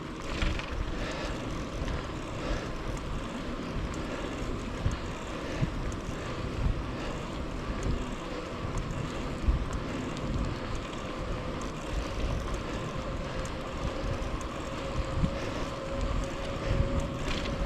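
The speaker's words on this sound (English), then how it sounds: "I can hear the highway probably about a half mile to the north on the other side of the river, the Sol Duc. I can hear the cars or vehicles on it" Distant highway traffic carries from about half a mile away across the Sol Duc River on the Olympic Peninsula, a steady faint rumble of cars blending with breeze on a quiet forest trail, with no one talking.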